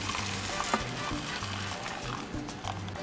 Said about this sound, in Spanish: Aquí ya tengo en la cacerola sofriendo margarina, tomate, chile verde y cebolla.